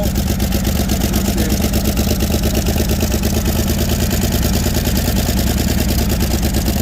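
A 1961 Chevy Biscayne's engine runs steadily at a loud, rough, fast idle, close up, with the throttle held closed and a constant pulsing exhaust beat and no voices.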